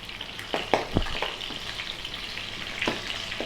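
Salmon skin sizzles with chilies in a hot wok, a close, continuous frying crackle with a few sharp spatters and stirring knocks, and no talk.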